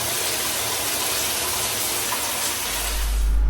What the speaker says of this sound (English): I'm gonna go ahead and rinse this out so we can reveal the truth about this.